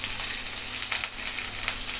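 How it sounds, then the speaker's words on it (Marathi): Onion and green chili frying in hot oil in a pan, with mustard seeds, cumin, asafoetida and curry leaves, a steady close sizzle for the full two seconds. "आता कांदा मिरची आपला चांगला परतून झाला तेलावर"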